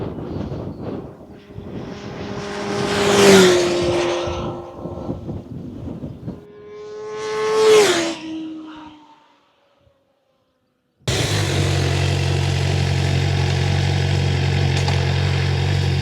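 Two ride-bys of a 2025 Kawasaki ZX6R on its stock exhaust, each a loud rising howl that peaks and drops in pitch as the bike passes, then a pause and a steady close engine drone.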